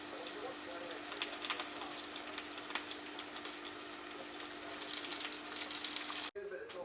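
Sliced onion and curry leaves frying in a pan for a coconut-based Kolan fish curry: a steady, fairly quiet sizzle with scattered crackles and pops, cut off abruptly near the end.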